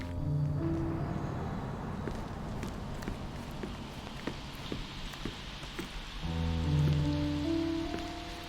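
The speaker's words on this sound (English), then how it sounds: "it was raining early that morning" Steady rain pours over an early-morning scene in the game Sherlock Holmes Chapter One, a dense continuous patter with scattered drips and soft clopping, while a low musical drone swells underneath.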